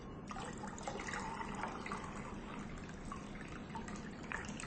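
Water from a fresh coconut pours and trickles into a glass mason jar in a raw food kitchen, a faint continuous liquid dribble with light splashing and no talking.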